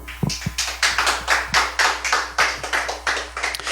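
Congregation clapping in unison at a Christian sermon, a steady rhythmic beat of sharp hand claps about three per second, close and loud throughout.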